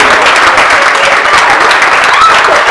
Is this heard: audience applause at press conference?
yes